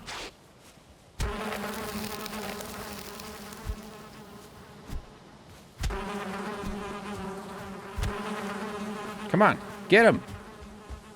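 Bees buzz in Valheim with a steady, close droning hum, broken by thumping hits, while someone speaks briefly near the end.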